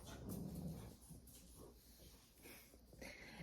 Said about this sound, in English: Every time I click the recliner, the dogs get amped up thinking something's gonna happen.